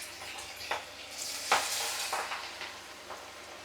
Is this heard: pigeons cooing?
no